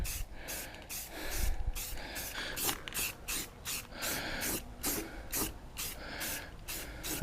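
Rapid bursts of aerosol spray from a spray can painting a Honda CBR motorcycle, short repeated hissing passes in a steady rhythm, close and fairly quiet with no talking.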